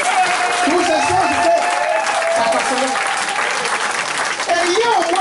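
Loud congregational applause during a church sermon, continuous clapping mixed with crowd voices and cheering, sustained and full throughout.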